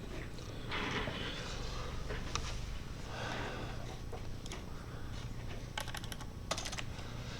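Close, steady typing of code on a computer keyboard, a rapid run of light key clicks with a few sharper taps, heard alone without speech.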